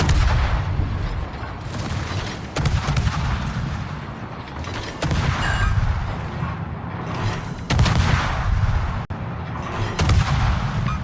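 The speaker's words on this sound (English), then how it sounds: "we might as well do a bit of gunboating while we're here" Ship guns firing in a naval warship video game, heavy booming salvos repeating every couple of seconds over a continuous rumbling battle backdrop, loud and without speech.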